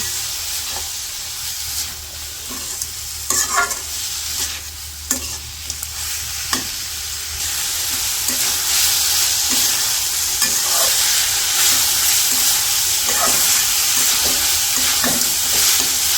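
Quail meat fries with ginger garlic paste in a pan, a loud continuous sizzle broken by repeated scraping stirs, growing steadier and hissier in the second half, with no talk.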